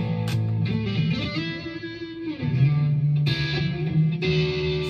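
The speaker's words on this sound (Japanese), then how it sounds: "今アリーナリバーブコンプを切りましょう" An electric guitar plays sustained, distorted notes and chords through an arena reverb effect with the compressor switched off, sounding wide and echoing with long tails, alone and fairly loud.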